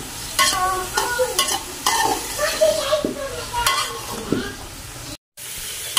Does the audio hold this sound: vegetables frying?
yes